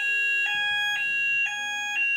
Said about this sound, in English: the shower kept on setting off the alarm.